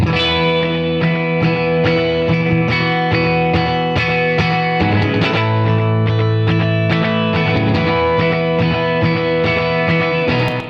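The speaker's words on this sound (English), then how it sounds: "I want a spring reverb, and then I also want to send it to this slapback delay" Dense electric music plays continuously, with a springy, splashy reverb tail and a quick doubled echo on the notes, thick and loud throughout.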